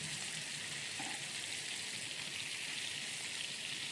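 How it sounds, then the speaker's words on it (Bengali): Pointed gourd (potol) frying in hot oil with turmeric and salt, a dense, steady close-up sizzle with no other sound over it. "তেলটা পুড়ে যাবে বলে হলুদটা দিয়ে আমি শুধু নুন দিয়ে পটলটা ভাজবো"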